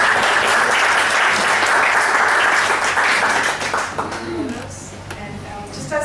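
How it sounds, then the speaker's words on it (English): An audience gives a presenter a loud, dense round of applause that carries on steadily, then thins and fades toward the end as a voice begins. "Alright, well, a big round of applause again for us."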